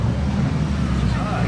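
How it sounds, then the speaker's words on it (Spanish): Rally cars arriving at the Subida a Jaizkibel 2022 hill climb, a steady low engine rumble close by, continuous and fairly loud throughout. "Pues aquí ya van llegando los coches."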